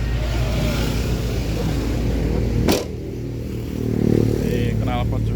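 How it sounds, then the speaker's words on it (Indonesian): A 1995 Honda Genio car idles nearby with air puffing steadily from its exhaust, a low continuous engine rumble that dips briefly midway before swelling again. "Ini knalpot juga masih keluar angin ya"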